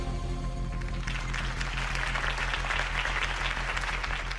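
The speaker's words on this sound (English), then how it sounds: "If only Mr. Wayne, my campaign's largest backer, could have heard that applause" Steady applause from a large crowd in a video game, dense clapping filling the whole stretch at an even, fairly loud level with faint music tones underneath.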